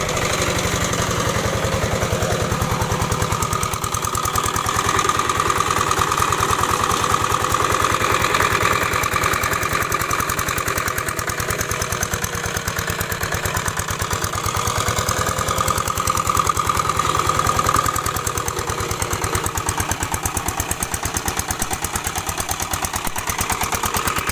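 A modified walk-behind tractor engine runs steadily while plowing furrows in hard soil for planting Japanese sweet potatoes, a loud, continuous mid-pitched chugging that holds close and even throughout with no talk.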